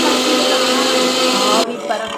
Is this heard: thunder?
no